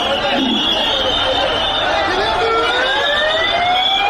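Ambulance siren wailing through a crowded street rally at a victory march, rising and falling tones held steady and loud over dense crowd noise, with a voice shouting over it.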